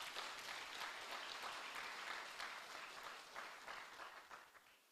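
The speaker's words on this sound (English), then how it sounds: "she deserves a round of applause." An audience at an international conference on applied science and technology applauds a speaker. Faint, distant and continuous clapping from a large crowd fades slightly at the close.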